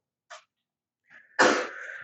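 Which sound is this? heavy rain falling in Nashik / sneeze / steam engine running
sneeze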